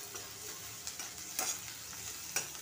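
Chopped onion roasting in a pan for tomato thecha, a soft steady sizzle with occasional scraping clicks from stirring, quiet and close.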